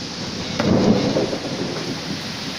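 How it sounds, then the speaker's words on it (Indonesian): Thunder rumbles through a late-afternoon thunderstorm with heavy rain and strong wind under dark clouds, a single rolling swell rising then fading over the steady hiss of rainfall, with no voices. "petir begitu besar."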